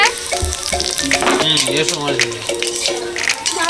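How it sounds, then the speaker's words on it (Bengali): Hot oil sizzles and crackles close up in a wok as dried red chillies and cumin seeds fry, while a person talks over it throughout. "কড়াইতে তেল দিয়েছি, একটা ফোড়ন দেবো, শুকনো লঙ্কা, জিরে"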